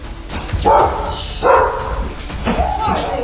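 A dog barks three times in sharp, evenly spaced bursts, loud and close, with a voice talking over it throughout.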